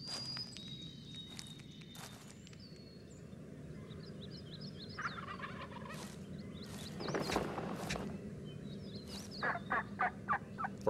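Wild turkeys gobble outdoors in several rattling bursts at mid distance, mixed with scratchy footsteps through leaf litter and a few other bird calls.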